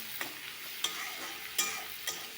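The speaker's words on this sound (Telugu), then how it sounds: "ఇప్పుడు సరిపడా అన్నీ వేగాయి పోపులు. ఉల్లిపాయ కూడా వేగింది" Onion and tempering spices fry in a pan for a mango chutney, a soft steady sizzle broken by four spaced scraping stirs of a spatula, close up with no voices.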